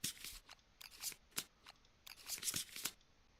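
Playing cards from the board game Kingdom Death being shuffled by hand, a series of quick riffles and soft papery flicks in irregular bursts, quiet and close.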